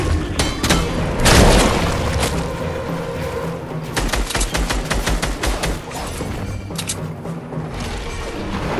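Rapid bursts of video game gunfire aimed at a shark, with a heavy boom early on and repeated volleys of shots throughout, loud and dense with a constant background rumble.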